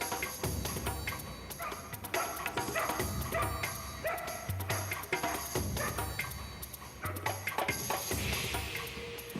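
Hunting hounds bark and yip in a training session with captive hares, several sharp barks and whimpers scattered across a busy, fairly loud outdoor scene with no talk.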